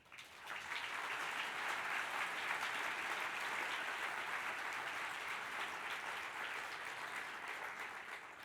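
An audience applauding at a 2017 awards event: a dense, sustained wash of clapping that swells in quickly and holds steady for the whole stretch.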